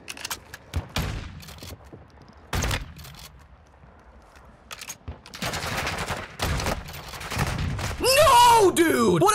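Bursts of video game gunfire in a multiplayer shooter, scattered sharp shots across the clip, rising into denser volleys near the end, with people talking over them.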